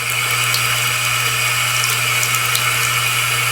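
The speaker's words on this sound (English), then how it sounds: "And I'm going to turn the water on it." Tap water runs steadily over a makeup brush during cleaning, a loud continuous hiss and splash with a low hum underneath.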